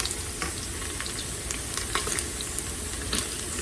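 Pancetta frying in a pressure cooker for spaghetti carbonara gives a steady, close sizzle and crackle, with small spits and pops scattered throughout.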